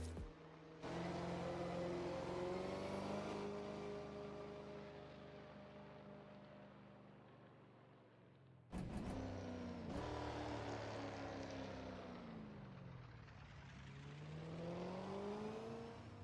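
Drift cars battle in a top-32 main event drift competition in Indonesia, engines screaming loud and near with sustained revs that sag and surge, then a sharp jump in intensity as another car bursts in close.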